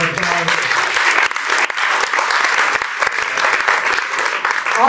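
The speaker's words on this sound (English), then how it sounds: "let's give them a little bit of round of applause" An audience at a film festival panel gives a loud, close round of applause for the event's sponsors, continuous dense clapping with sharp individual claps throughout.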